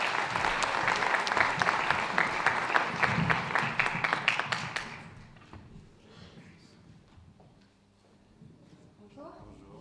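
An audience at a citizens' initiative event applauds as a speaker comes forward to the stage, a crisp burst of clapping that dies away after about five seconds, leaving faint room noise and a few soft knocks and footsteps.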